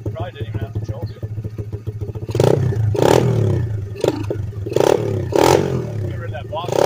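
Chinese 125cc pit bike fitted with a NIBBI racing carburetor and the airbox removed, idling then revved in several sharp loud bursts close by, with voices talking between blips.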